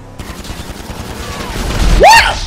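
Gunfire in the GTA 5 video game, a dense burst of shots building toward a loud peak near the end, with sweeping whistle-like tones rising alongside.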